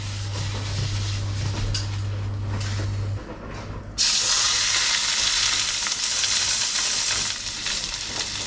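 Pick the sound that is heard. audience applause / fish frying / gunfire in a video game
fish frying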